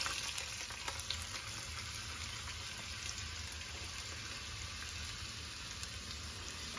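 Carrots and onions for a mirepoix sautéing in a pan while preparing veal osso buco, a steady soft sizzle and crackle running evenly throughout with no voices.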